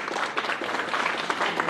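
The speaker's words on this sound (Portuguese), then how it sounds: "Uma salva de palmas." Brief burst of applause from a small crowd at a house keys handover ceremony for a municipal housing programme in Maringá, steady clapping throughout.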